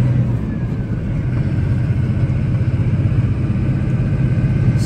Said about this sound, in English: Here's an awesome running truck